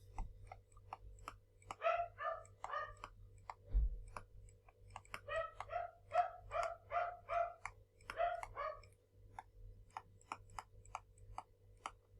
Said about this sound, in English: Oh, the dog next door is not happy.